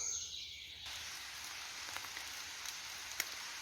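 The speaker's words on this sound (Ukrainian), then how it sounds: "Починається у нас дощик." Light rain beginning in a beech forest, a soft steady patter on leaves that thickens after a moment, with a few sharper drops striking close by.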